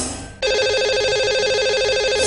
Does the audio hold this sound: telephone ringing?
yes